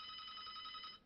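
A telephone rings with a bright, trilling electronic bell tone in a Hearthstone game, repeating steadily for about a second before cutting off.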